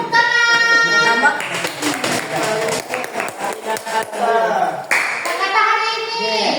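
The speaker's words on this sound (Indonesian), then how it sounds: "Kasih tepuk tangan." A burst of audience applause, dense hand clapping in the middle of the clip, framed by speaking voices before and after.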